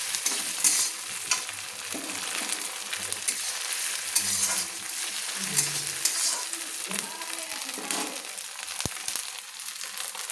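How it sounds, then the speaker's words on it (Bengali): Ginger paste fries in hot oil for a Bengali cabbage and prawn dish, giving a steady close sizzle broken by scraping, clattering stirs of the spoon in the pan. "দিয়ে আদাটাকে আমি একটু তেলের মধ্যে কষিয়ে নিচ্ছি।"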